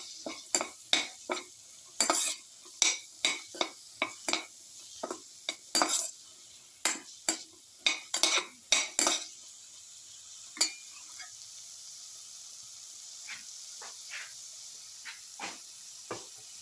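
Bitter gourd pieces with salt stirred in a pan, a spoon or spatula scraping in quick sharp strokes over a soft sizzle, dense for the first ten seconds and then sparser and fainter, with no voice.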